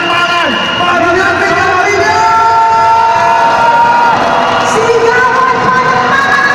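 Big live audience cheering and shouting: a loud, continuous wall of many overlapping voices with rising whoops layered on top and no pause throughout.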